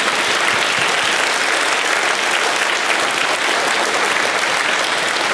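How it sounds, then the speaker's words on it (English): Elementary school children at a Veterans Day assembly applaud veterans, a loud, dense and steady wall of clapping from a large indoor crowd. "let's give them a big round of applause for all their service"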